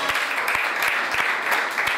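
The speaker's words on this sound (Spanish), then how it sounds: "un aplauso fuerte a Mauri" Audience applause at a live comedy show carries on steadily and fairly loud, with a few low thumps mixed into the dense clapping.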